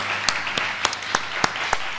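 Applause from a church congregation after a closing prayer, heard as a steady wash of clapping with a few sharper, separated claps standing out roughly every half second.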